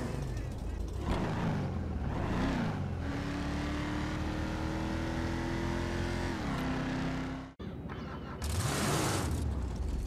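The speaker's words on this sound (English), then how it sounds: "The Mamba, another one that sounds so good, and that instant quick startup makes this car appeal so much." A Mamba sports car in GTA Online starts up and revs, its engine surging and swelling in loud roaring pulses before the note holds steady, cuts abruptly, then returns with another burst of revving.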